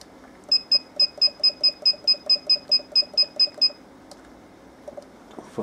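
A brewing timer on a Grainfather brew day gives about fourteen quick, evenly spaced high beeps close up, then stops, leaving a few faint clicks and handling noises.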